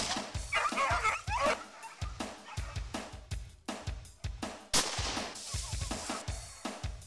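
Tracker dogs hunting rabbits bark in rapid, repeated bursts, loud and close, with yips mixed in and short gaps between volleys across the whole stretch.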